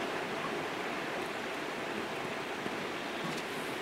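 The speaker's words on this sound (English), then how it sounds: "So you just turn this on until you hear the hiss." Propane gas hisses steadily from a portable camping heater and stove as the valve is turned on, a constant close broadband rush with no talk.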